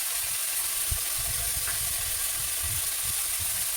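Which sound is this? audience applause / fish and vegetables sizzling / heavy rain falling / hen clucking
fish and vegetables sizzling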